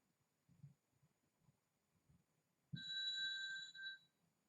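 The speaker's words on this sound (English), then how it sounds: "Now the phone's ringing." Faint room murmurs, then a telephone starts ringing with a bright electronic tone that holds for over a second before cutting off.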